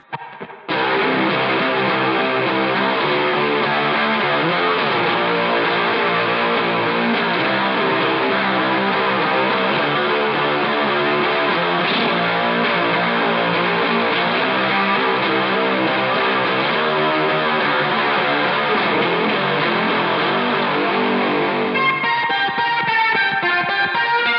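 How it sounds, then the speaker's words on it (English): An electric guitar plays through heavy fuzz with a warbling chorus, a dense, gritty, lo-fi wash of sustained chords that runs continuously with no talking. "Chorus from fuzz or distortion gets that nice little lo-fi thing"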